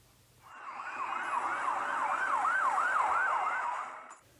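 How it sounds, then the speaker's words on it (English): A police car siren wails in a rising and falling pattern, swelling up from quiet to loud and holding steady as it approaches, with no voices over it. "There's a police car coming."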